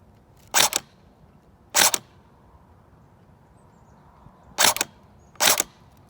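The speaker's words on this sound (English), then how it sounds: "the BBs are going way off to the left of the target" A G3 SG1 airsoft rifle fires BBs at a target in four sharp, separate shots, two close together early and two more a few seconds later, each a short crisp crack over a quiet background.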